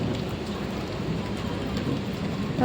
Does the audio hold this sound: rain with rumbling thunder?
yes